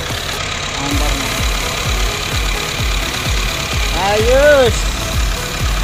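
A Honda i-VTEC car engine running at idle after a valve cover repair, a steady close rumble with regular low pulsing beats, with someone speaking briefly over it.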